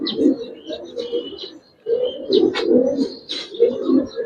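Giribaz and coloured pigeons coo in soft, throaty, repeated bursts close by, several birds overlapping with faint chirps and a brief pause midway.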